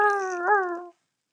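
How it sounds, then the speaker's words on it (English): A dog howls in one sustained, wavering cry lasting under a second, clear and fairly close, then silence. "I think that's what the howling means."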